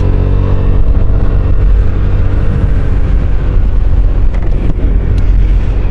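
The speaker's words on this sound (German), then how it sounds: "Ich fahre jetzt kurz auf die Bundesstraße hoch, damit man auch mal einen ungefähren Eindruck bekommt, wie der Kymco so" A Kymco Downtown 350i scooter with a 30 hp engine of about 320 cc accelerates onto a highway, its loud, steady engine drone blended with heavy wind rush throughout.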